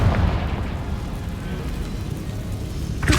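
Confringo spell blast in Hogwarts Legacy, a dense rumbling explosive roar that fills the whole moment, with a sharper burst at the end.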